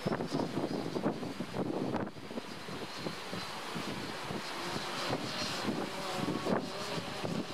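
Strong wind buffeting outdoors during an Iris+ drone flight, continuous roaring gusts battering the microphone with rough low rumbles, loud and unbroken throughout.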